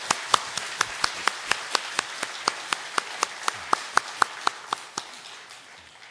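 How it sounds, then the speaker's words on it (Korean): A church congregation applauding with rhythmic, evenly spaced claps in unison, sharp and distinct, slowing and fading at the end. "다시 박수 한번 격려해 주세요."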